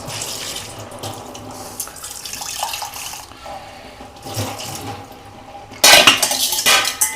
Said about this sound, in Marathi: आता हे पातेलं आहे ना ती धुवून मी इथं टाकते